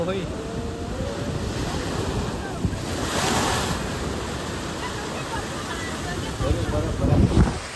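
Ocean waves crash and wash in a steady, roaring surf at Dwarka, with wind noise and a heavier surge near the end.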